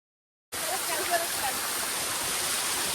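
A waterfall roars with a steady, loud, dense rush of falling water that cuts in abruptly after half a second of silence and holds evenly to the end.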